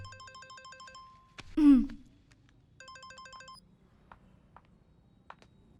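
A phone's electronic ringtone chirps in a repeating beeping pattern, sounds twice with a loud swooping effect between bursts, set in a Hindi-dubbed South Indian film scene.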